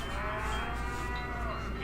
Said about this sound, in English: Hear that? That's the sound of happy cattle, healthy cattle